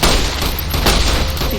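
Loud, close gunfire from Fallout New Vegas runs in a rapid cluster of overlapping booming shots, a short burst of dense, echoing reports that fill the whole moment.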